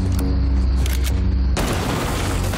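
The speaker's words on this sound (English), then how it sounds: "that explosion was a bit too close" Video game explosions in the game Liberated: a heavy low boom with rumbling blasts and a loud burst near the end, with no talk over it.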